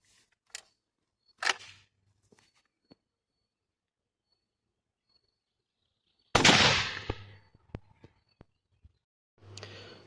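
A Beretta Belmonte 1 Mk2 shotgun loaded with a Remington No. 5 36-gram wad shell, through a Kick's 0.665-inch choke, fires one loud, sharp blast midway, preceded by faint handling clicks and followed by a few light metallic clicks.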